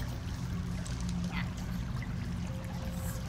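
A dripping-water cave ambience, the Dripping Caves, plays during a tabletop game: a steady trickling, watery bed with faint scattered drips, heard at moderate volume.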